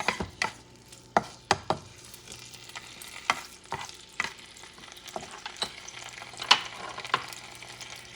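Sofrito stirred in a pan of hot salted pork fat for a Puerto Rican pigeon pea stew, giving a steady low sizzle broken by sharp scraping clicks of a spoon against the pan, with no talk.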